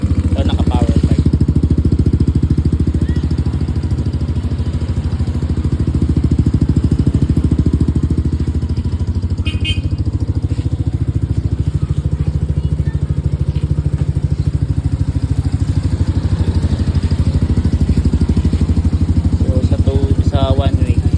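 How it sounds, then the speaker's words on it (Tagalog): A Yamaha Aerox SP motor scooter with a power pipe exhaust idles and revs, a loud continuous engine drone close by throughout, with a voice briefly speaking. "I-check natin yung pipe. Kung ano ba tunog ng power pipe."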